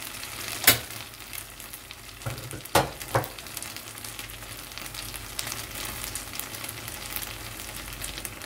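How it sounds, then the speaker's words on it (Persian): Chicken majboos sizzles and crackles steadily in a pot, with a few sharp clinks and scrapes early on and no voices. "صدای جیلیز و بیلیز هم داره به ما میگه که آقا شعله رو کم کن"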